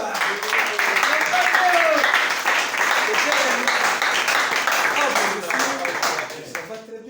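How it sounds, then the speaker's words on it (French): A gathered church congregation applauds and cheers for Papa Léo, steady dense clapping with voices mixed in throughout, tapering near the end. "acclamez pour Papa Léo"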